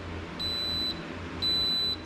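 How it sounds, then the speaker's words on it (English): An electric pressure cooker sounds two clear, sustained electronic beeps with a short gap between them, loud and close with no voices. "It beeped and gave me a notification that the food was burning."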